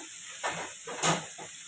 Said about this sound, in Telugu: ఇప్పుడు మనం కాజు వేస్తున్నాము సెంటర్లో